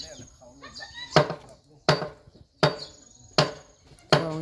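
Wedges are hammered into a wooden house post, giving five sharp, evenly spaced knocks at roughly one per second, with insects chirping faintly in the background and a voice heard briefly at the start.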